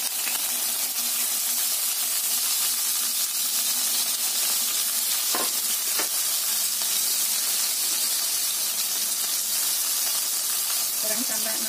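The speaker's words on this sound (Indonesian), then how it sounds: "Kita goreng terongnya yang sudah kita kasih garam dan juga lada tadi." Loud, steady sizzling of salted, peppered eggplant frying in hot oil, with occasional pops and crackles throughout.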